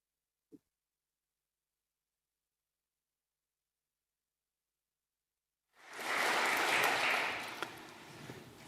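Audience applause at a conference breaks out after a long silence, a dense wash of many hands clapping at moderate distance, swelling and then holding steady to the end with no talk over it.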